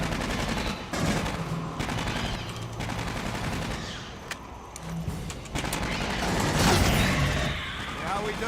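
Automated sentry turrets fire in the Aliens: Colonial Marines video game, producing dense, continuous rattling gunfire that barely lets up, with game voices and effects mixed throughout.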